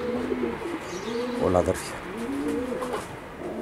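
White racing pigeons of a family-bred loft coo with soft, rolling calls under someone talking in Greek, with a brief louder flutter of wings in the middle.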